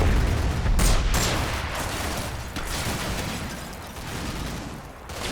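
Gunfire in Combat Mission: Black Sea as Ukrainian troops pour heavy suppressive fire onto a building holding snipers: a dense, continuous rattle of shots with a few louder bursts over a rumbling battle bed.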